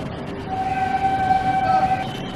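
A train runs past near an apartment building beside a metro station, a continuous rumble with a sustained horn-like tone held for over a second.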